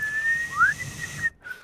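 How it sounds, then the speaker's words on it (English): A person whistles a sustained clear tone with a quick upward slide midway, close and fairly loud, breaking off briefly before a final sharp whistled note. "Let me get to real whistling."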